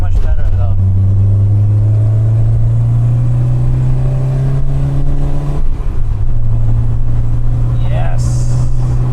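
A Peugeot 405 Mi16 engine drones steadily from inside the cabin while driving, pitch holding then dropping briefly at a gear change before settling, with someone talking over it.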